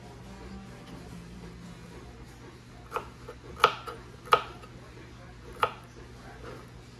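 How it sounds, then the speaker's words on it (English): A few sharp knife chops through vegetables on a cutting board, irregularly spaced, close and crisp against a quiet kitchen background. "I like chopping vegetables"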